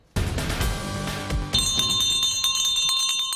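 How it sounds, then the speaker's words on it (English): Bright bells ring continuously, one chime joining partway through for a denser, clanging peal, loud and close with no voices. "Bells, drums."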